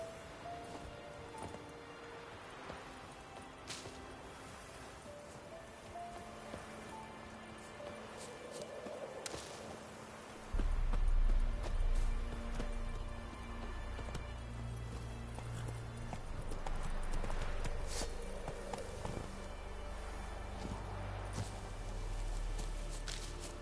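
A horse gallops in the Witcher 3 video game, steady rhythmic hoofbeats clip-clopping throughout, with a heavier, louder stretch of hooves and low rumble in the second half.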